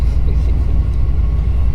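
Steady loud low rumble of a vintage RV driving on tires dating from 1985, a constant close road drone with no breaks.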